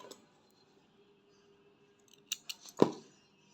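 Scissors snip crochet yarn during work on a small crochet coaster: a few quiet close clicks, then one sharper cut, in an otherwise silent room.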